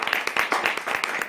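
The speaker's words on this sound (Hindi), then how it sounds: "परमेश्वर के लिए हम जोरदार तालियों से स्वागत करते हैं" A congregation applauds loudly at a prayer gathering, a short burst of dense, lively clapping from many hands.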